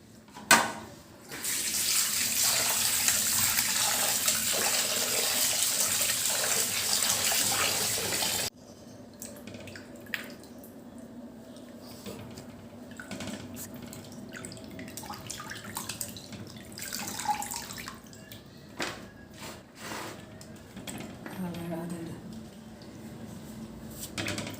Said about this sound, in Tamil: ரெண்டு 3 வாட்டி உப்பு போட்டு கழுவிட்டு மஞ்சள் பொடி போட்டு ஒரு 2 முறை கழுவணும்.